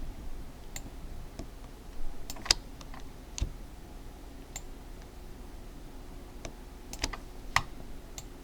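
A computer keyboard shortcut is tapped out as sparse, sharp key clicks scattered over a quiet background, single presses and small clusters at irregular intervals, close and fairly crisp, with no voices.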